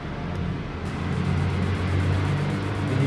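A broken Nissan Skyline engine spinning up on a dyno, with a dense, loud mechanical roar that rises slightly and holds steady throughout.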